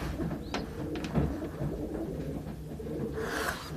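Pigeons coo softly and repeatedly inside a home loft holding about eleven birds, including young ones and a pair on eggs, with low murmuring calls over a steady rustling background and no talk.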